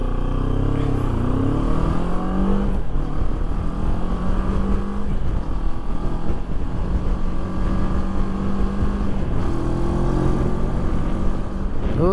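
A CFMOTO 700MT motorcycle pulls away from a standing start, its engine note rising through several gear changes in a steady, loud run, heard close with no talk over it.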